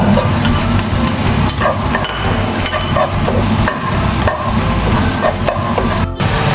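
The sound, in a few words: garlic and onion sautéing in a pan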